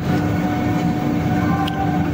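A Howrah to Lal Kuan Junction weekly superfast train pulls out of Asansol station, producing a loud, steady, close rumble of wheels and carriage drone with faint high whines and a brief clatter near the end.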